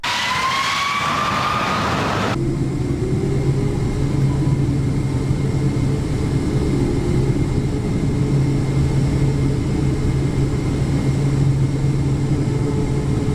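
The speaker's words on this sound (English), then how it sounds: "It's pretty cool to see how easy it is for airplane engines to suck in the moisture from the air." Airplane jet engines roar steadily and loudly with a broad rushing whine and low hum, heard close and continuous without speech.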